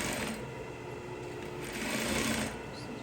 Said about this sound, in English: So just stitching the same place.